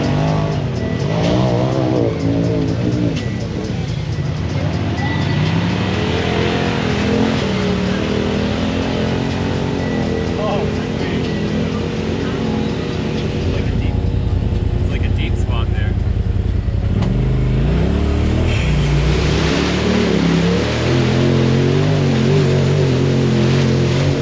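Polaris RZR side-by-sides churn through mud on a Tennessee trail, their engines roaring loudly and continuously up close, with the pitch and load shifting partway through as the machines push through the muck.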